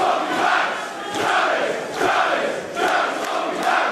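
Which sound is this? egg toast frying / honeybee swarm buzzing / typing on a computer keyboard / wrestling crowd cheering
wrestling crowd cheering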